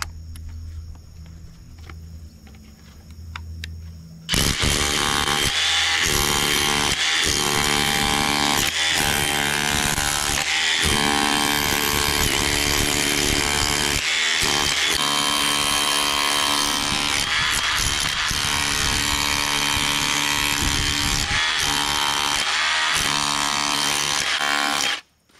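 A power tool fitted with a small tile prying bit chatters and rattles hard against rock on private land in Texas, starting abruptly and hammering loudly and continuously for about twenty seconds before cutting off.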